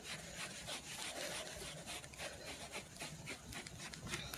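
An Analan pet hair brush is dragged across fabric to remove pet hair, giving a steady, dense scratchy rubbing. The sound is faint and continuous, made of quick repeated strokes, with no voices.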